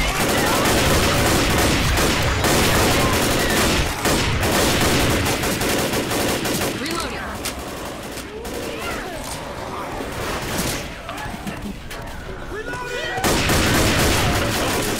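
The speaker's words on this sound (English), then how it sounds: "Francis using his pistols." Gunfire from Francis firing pistols in Left 4 Dead, dense loud game combat with rapid overlapping shots and blasts, easing briefly in the middle before building again.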